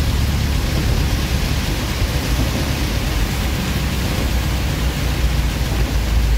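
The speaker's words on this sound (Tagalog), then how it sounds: "grabe ang ulan." Heavy rain pours steadily in Sorsogon, Philippines, on a road with poor visibility, a dense continuous roar with no breaks, loud and enveloping throughout.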